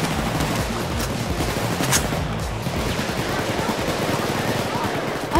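Payday 2 video game gunfire rattles in dense, continuous automatic bursts, loud and sustained, with faint voices underneath.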